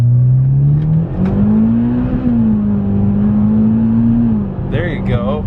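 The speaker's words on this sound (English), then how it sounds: "All right, floor it." A Mitsubishi Evo accelerates at full throttle on a street, the engine note climbing steadily in pitch as it revs hard from inside the car, then dropping with a brief whine at a gear change near the end.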